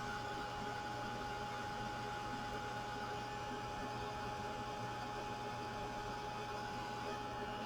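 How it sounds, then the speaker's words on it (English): A dryer runs steadily close by to dry ink on index cards, giving a constant, even whirring hum with no breaks or changes for the whole stretch. "I'm just going to let the dryer do it."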